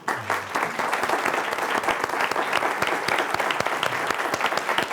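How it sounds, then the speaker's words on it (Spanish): Conference audience at a consumer neuroscience panel claps steadily for several seconds, a dense, even wash of applause from a seated crowd in a hall. "creo que se merecen un aplauso"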